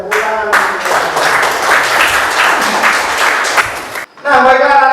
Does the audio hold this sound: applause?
yes